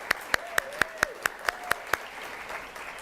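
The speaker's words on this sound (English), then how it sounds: "Please join me in a round of applause to our staff." About nine evenly spaced, distinct claps from one nearby person at an occupational therapy pinning ceremony, quick and rhythmic, then stopping, with faint sound of the hall and a soft tone behind.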